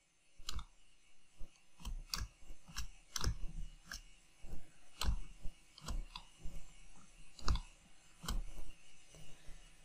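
Crisp computer mouse clicks, close and distinct, come in irregular bursts while someone works in Fusion 360 design software, with quieter handling noise between.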